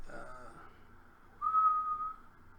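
A person imitates Yondu's whistle from Guardians of the Galaxy: a short wavering whistle, then a longer steady sustained note, close but soft against a quiet room background.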